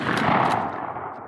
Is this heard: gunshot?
yes